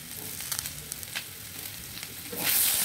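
Potatoes fry in a pan while a utensil stirs them, producing a soft, close sizzle with a few scraping strokes and a louder burst of hissing at the end.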